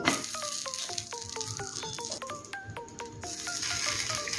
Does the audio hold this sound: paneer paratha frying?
yes